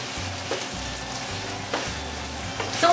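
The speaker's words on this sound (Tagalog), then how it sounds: "Igisa na rin natin." Garlic, onion, ginger, pork and shrimp paste sautéing in a pan for laing, giving a steady close sizzle with a few stirring scrapes and clatters and no talking.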